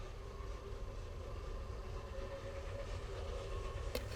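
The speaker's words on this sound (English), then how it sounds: "it's number 138's turn to heave a lengthy mixed train through the reverse curves at Frith" Narrow gauge steam locomotive No. 138, named Millennium, hauls a long mixed train through reverse curves at Frith Isaf in Wales, a distant steady rumble of rolling wagons with a faint click near the end.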